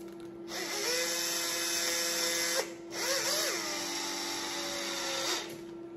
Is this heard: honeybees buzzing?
no